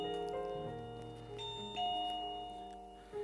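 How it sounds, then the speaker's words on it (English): A wireless driveway doorbell main unit plays its chime tune, a clean sequence of sustained electronic tones stepping through several notes, close and moderately loud with no talking. "If we squeeze a tube just here, it will activate a doorbell"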